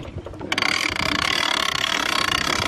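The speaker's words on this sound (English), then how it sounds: "all I'm going to have to do is crank on this winch" A ratchet winch is cranked to hoist a post up alongside a 6x6 for a bat house pole, giving a loud, close, rapid string of even metallic clicks.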